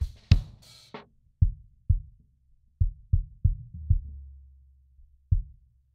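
A lone kick drum with other frequency ranges filtered out, run through a Holedo Downward Tube Expander, thumps in an uneven pattern, deep and punchy, each hit decaying quickly, with a couple of brighter clicks near the start.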